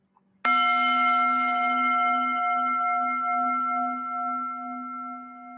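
A single bell is struck to open a church service, one clear bright strike followed by a long sustained ring that slowly fades in a quiet room.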